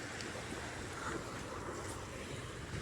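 Wind and water wash over the Danube as a passing boat's wake comes in, a steady broadband rush with some microphone buffeting and no speech.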